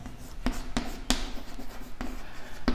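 Pen or marker writing by hand while working a continuity math problem, with soft strokes and taps in short irregular bursts, close and quiet, without speech.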